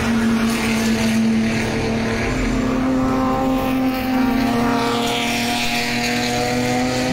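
Honda Civic race cars, an older Civic Estilo and a Civic Type R, race on a circuit, engines droning steadily at high revs with a sustained tonal whine throughout.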